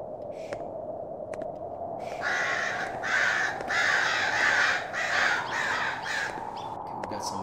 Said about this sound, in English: Okay, we got some birds.